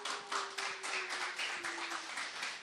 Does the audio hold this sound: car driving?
no